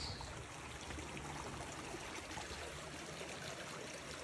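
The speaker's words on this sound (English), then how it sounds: "So look at this fun little creek" A small creek near Lake Tahoe babbles and rushes steadily, a soft continuous wash of flowing water with no voices.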